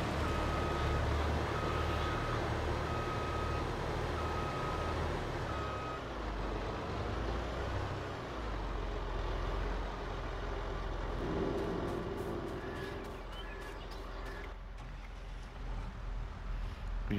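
A tractor-type implement carrier drives across a potato field, its engine holding a steady, close, loud drone throughout, with a short run of reversing beeps near the end.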